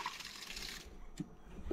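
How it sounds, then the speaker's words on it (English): Water runs into a tank mounted on a converted boat trailer, a steady, faint rushing and splashing that continues throughout. "we're gonna let this fill up with water"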